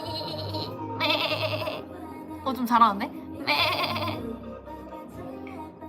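A person's voice imitates a goat's bleat, with wavering, tremulous cries in several bursts among chatty talk during a live stream.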